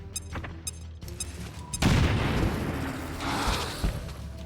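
A frag grenade going off in the tactical game Chimera Squad: a few short ticks and clicks, then a loud blast with debris rumble trailing off, followed by a second smaller burst near the end.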